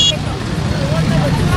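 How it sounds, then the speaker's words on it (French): Busy street traffic with car and motorbike engines rumbling close by, a steady dense roar with a background babble of voices and a brief high tone at the start. "des sons aigus de klaxons et de motos de voitures, aux plus gutturaux provenant des moteurs de ces engins"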